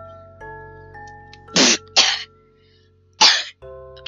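A person gives loud, close, explosive coughs, three harsh bursts in quick succession over a faint background tone.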